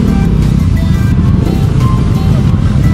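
A Yamaha Mio motor scooter rides a rough dirt trail near Tagtugonan Falls in Kapalong, Davao del Norte, its engine droning loud and close with bumps and rattles throughout.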